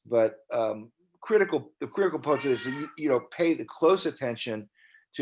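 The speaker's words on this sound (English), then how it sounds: "that's my cat in the background." A house cat meows faintly in the background, mostly buried beneath steady, continuous speech from a presenter.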